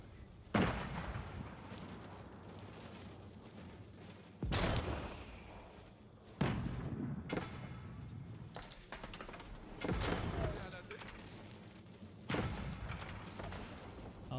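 Cannon artillery fire in the video game Age of Empires IV, with several heavy booming shots spaced a few seconds apart over a bed of battle noise.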